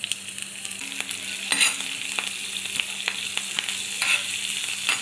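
Green chillies hitting hot oil with panch phoron in a pan, giving a soft steady sizzle with scattered crackles and pops, close and fairly quiet.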